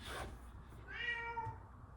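A house cat meows once, a drawn-out, fairly close call rising and falling over a steady low background hum, with nothing else following it.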